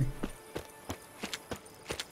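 Horse hooves clip-clopping at a steady walking rhythm in the Witcher 3 video game, about seven soft, evenly spaced hoofbeats, fairly quiet and with no voice over them.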